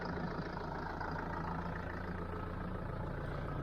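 A heavy tractor engine idles nearby with a constant low rumble, steady and unbroken, with no voices.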